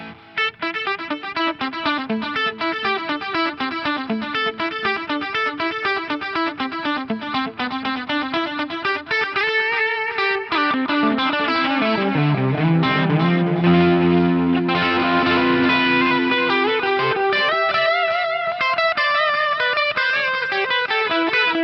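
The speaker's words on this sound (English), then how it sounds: "That's a gorgeous sounding delay." Fender Strat Ultra II electric guitar played clean through a VP4 stereo dotted-eighth delay with a touch of plate reverb, a steady run of picked notes and chords trailing repeating echoes, sustained and loud throughout with no talking.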